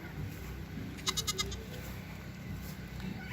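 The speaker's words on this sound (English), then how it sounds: "And we got their goats" Goats kept at a Christmas light display let out a quick burst of four or five bleats in the middle, fairly close but not loud, over a quiet outdoor background.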